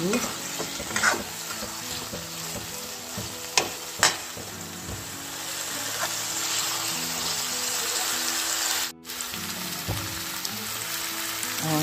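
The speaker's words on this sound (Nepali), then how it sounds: "त अब म अघि फ्राई गरेर राखेको चिकनलाई हाल्दैछु। अब यसलाई म फेरि एकचोटि पकाउने छु।" Pre-fried chicken dropped back into hot oil and masala to cook again, a loud, dense, continuous sizzle with a few stirring knocks and a brief dip near the end, close up and without talking.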